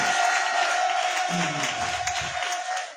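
A church congregation applauds and cheers in a dense, continuous wash of crowd noise, steady and loud throughout, with a voice briefly rising out of the din.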